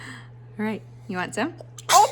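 A young child gives one short, sharp sneeze at the close, after an adult's brief speech in a home kitchen on a sick day.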